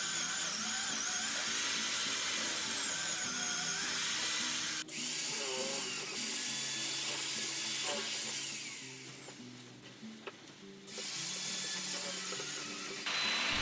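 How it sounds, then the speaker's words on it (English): Kakunomi hollow chisel mortiser cutting mortise holes in timber for traditional Japanese joinery, a loud whining motor with changing pitch as the chisel plunges, easing off briefly before starting up again. "This machine is called a kakunomi, or hollow chisel mortiser."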